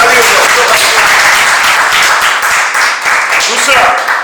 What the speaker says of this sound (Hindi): तो एक बार जोरदार ताली हो जाए।